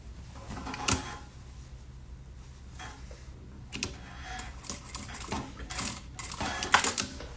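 A sewing machine runs a short safety seam on fabric for a bag, giving off bursts of quick mechanical ticking and clatter that start and stop, close up and at moderate volume.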